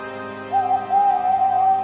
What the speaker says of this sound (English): Whenever that owl hoots, a mist rolls in